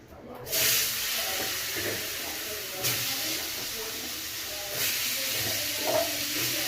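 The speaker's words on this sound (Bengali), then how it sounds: "আলুটা ভাজা হচ্ছে এখানে" Potato pieces frying in hot oil in a home kitchen make a steady sizzling hiss that rises a few times, while a person talks quietly over it.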